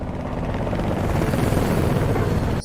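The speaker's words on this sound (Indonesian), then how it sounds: "Di luar pun ada helikopter militer dan pesawat jet yang melintas di atas rumahnya." A military helicopter roars low over a house, a dense, steady rotor-and-engine rumble filling the whole moment, loud and close with no pause.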